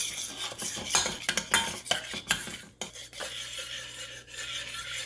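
Milk is stirred into a flour mixture in a pot for whoopie pie filling, with close, irregular scraping and clinking of a utensil against the pan. There is no speech.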